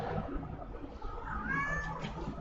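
A single rising meow from a cat cuts through a noisy indoor background, fairly close and moderately loud, with no talking over it.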